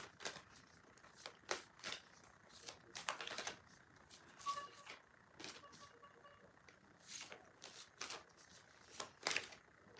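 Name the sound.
shuffling cards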